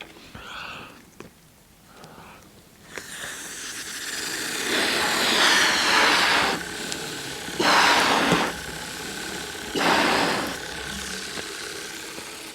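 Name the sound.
model engine running on air from a balloon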